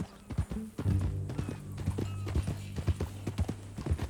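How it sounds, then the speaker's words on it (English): Horse hooves clip-clopping at a walking pace in the Red Dead Redemption 2 video game, a regular series of close, distinct hoof strikes with faint tack jingle and brief voices in the background. "That new horse?"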